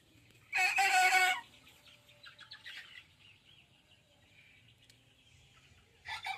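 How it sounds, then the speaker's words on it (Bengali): A hen with a cold gives a loud burst of squawking clucks, then softer scattered clucks and chirps follow in a quiet setting, with another short burst at the end. "এই যে আমার পাশে একটা মুরগি আছে"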